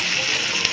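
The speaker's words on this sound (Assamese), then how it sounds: "এই মাছ ভজা কেৰাহীত একেলগে মই আলুখিনিও ভাজি ল'ম" Potatoes frying together in a wok already used for frying fish, giving a steady, close hiss of oil sizzle throughout a short moment with one brief crackle near the end.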